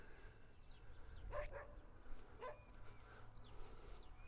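Dogs bark and yip around a stadium sports track, a few sharp bursts at moderate distance over steady outdoor background noise, with no talking.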